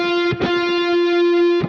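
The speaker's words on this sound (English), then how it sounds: "A rake is when you strum the strings in one single motion," Distorted electric guitar rakes in quick strums with a sustained note ringing between them, then another strum near the end, loud and close with no voices.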